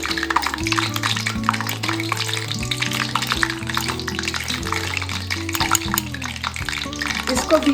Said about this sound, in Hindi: अब इसको हम जाली में डाल करके इस तरह से इसको फ्राई कर लेंगे